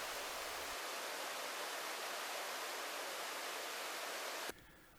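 Gucheon waterfall in the Gucheondong valley of Deogyusan, a continuous dense hiss of falling water close by, steady and unbroken for several seconds before cutting off abruptly near the end.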